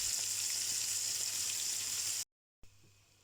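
Floured fish frying in oil gives a steady, loud sizzle that cuts off abruptly, then resumes more quietly after a short gap.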